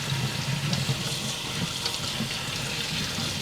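Cold water runs steadily from a kitchen tap with a continuous splashing hiss, close and fairly loud, with no talk over it.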